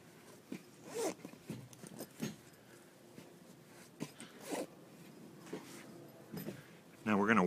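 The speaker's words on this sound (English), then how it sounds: "and the zipper will go." A zipper being pulled closed along a sofa back cushion cover stuffed with new foam, heard as a few short rasping bursts spread across the clip, followed by a louder burst at the end.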